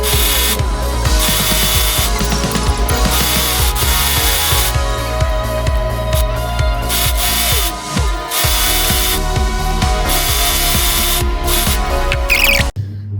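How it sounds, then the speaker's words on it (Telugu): Sewing machine stitching a double-folded fabric hem on a peplum top, a loud, steady mechanical whirring run that continues almost without pause, close up, ending abruptly near the end. "ఫస్ట్ కింద ఇలా డబుల్ ఫోల్డ్ చేసి స్టిచ్ చేసేసుకుంటాను"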